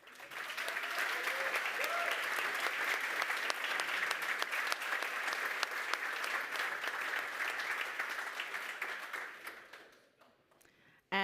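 An audience at a tech conference's center-stage session applauds award winners, a sustained wash of many hands clapping with crowd murmur underneath, holding steady for several seconds before tapering off into near silence.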